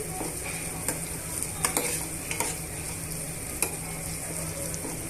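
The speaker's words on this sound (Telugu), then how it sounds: "ఉల్లిపాయ ముక్కలు పచ్చిమిరపకాయ ముక్కలు పల్లీలు బాగా వేగి వేగనివ్వాలండి" Chopped onion, green chilli and peanuts fry in a pan for upma, with a steady sizzle and occasional spatula scrapes and clicks against the metal, close and moderately quiet, with no voices.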